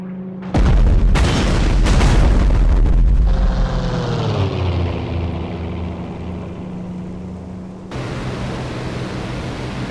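Anti-aircraft flak gun in a combat video game, a rapid string of heavy booms up front giving way to a long droning roar that fades, then a sudden shift to a steady noise bed, with no talk.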